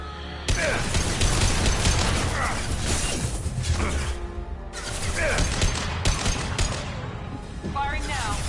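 Bursts of sci-fi gunfire and metallic impacts from Mass Effect combat rattle loudly and almost continuously, with crashes and voices mixed in.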